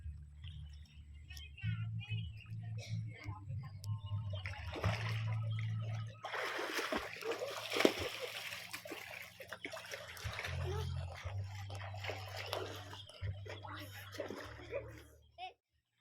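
Water splashes and trickles at a public swimming pool where children swim, with kids' chatter and a steady low hum throughout, rising to a busier burst of splashing midway.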